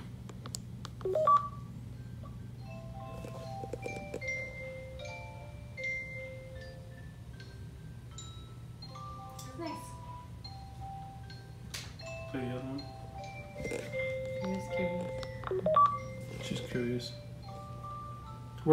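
A VTech SM8252-2 baby video monitor plays a lullaby tune in thin, beeping electronic tones, fairly faint over a steady low hum, with a person speaking quietly at moments.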